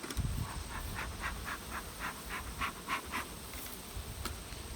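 Honeybees hum around an open hive during late-summer colony inspection, a soft, steady buzz with faint rising and falling pulses, distant and quiet, with no talking.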